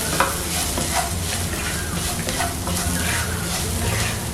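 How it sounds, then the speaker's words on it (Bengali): Spices such as chilli flakes and garam masala are stirred into a mixture for potato bread patties, giving a steady, close scraping and mixing texture that runs without pause and with no voices. "আবারও একসঙ্গে খুব ভালো করে মিশিয়ে নিতে হবে।"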